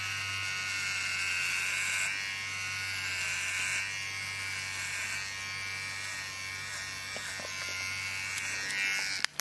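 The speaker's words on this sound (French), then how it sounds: "me raser le crâne avec la Kemai. Donc la tondeuse que je vous ai montré en vidéo" A Kemai electric hair clipper shaving a head runs with a steady, even motor buzz for the whole stretch, close and continuous, with faint scraping changes as it moves over the scalp and a small click at the end.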